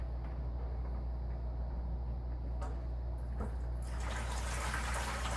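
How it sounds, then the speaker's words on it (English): Water is siphoned out of a coral aquarium tank in a steady, faint trickling flow that rises into a louder rushing pour near the end, with a low constant hum beneath and no talking. "The old siphon going."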